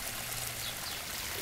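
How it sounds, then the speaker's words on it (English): A backyard koi pond's three-tier waterfall with three cascades and a 30-inch drop, moving about 4,000 gallons an hour, gives a steady, full rush of splashing water that continues without a break. "We built a 3-tier waterfall,"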